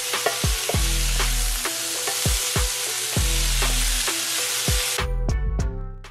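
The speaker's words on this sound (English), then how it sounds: "Now add about 2 cups of diced sweet potatoes and stir to incorporate." Diced sweet potatoes stirred into sautéing peppers and onion for a hash, loud hissing sizzle with rhythmic spatula scrapes and thuds repeating every half second or so, the hiss cutting off near the end, no speech.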